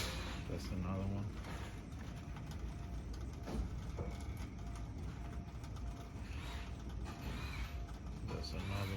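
Small headlight motor inside an LED headlight with crystal tear lights, whirring and creaking mechanically in a steady, continuous grind at close range, with some faint background noise.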